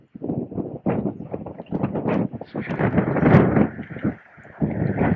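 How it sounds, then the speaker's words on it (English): Gusty wind on Campbell Island, a remote, heavily vegetated spot, buffeting the microphone in loud, close bursts that rise and fall, with brief lulls between gusts. "now the wind has eased slightly"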